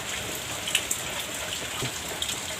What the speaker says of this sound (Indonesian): Hujan ngerecek wae kieu ya.